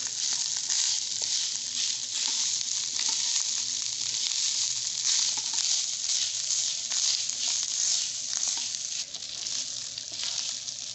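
Samosa meat filling frying in a pan while it is stirred, giving a steady close sizzle with scraping stir strokes, no talking.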